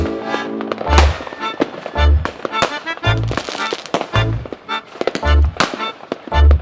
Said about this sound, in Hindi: इन पटाखे इन पकड़ो, मैं अभी जला रहा हूँ